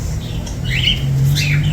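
Cockatiels giving short, sharp squawks, two or three bright calls at close range over a low steady background hum, with no one speaking.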